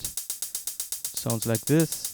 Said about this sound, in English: 1 bar of 16th notes using a closed hi-hat